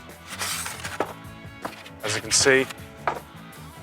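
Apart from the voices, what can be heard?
unboxing a cast iron reversible griddle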